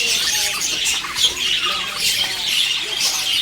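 Pet birds being fed kulasiman squawk loudly and repeatedly at close range, with harsh, overlapping calls that keep going with no pause and no talking.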